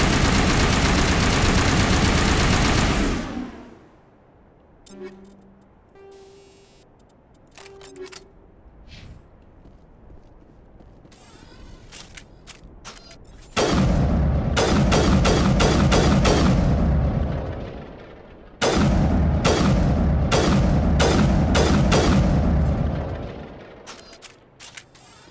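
Sustained automatic gunfire with Inferno rounds in Mass Effect erupts in three loud bursts of several seconds each, separated by quieter gaps holding scattered clicks and faint tones.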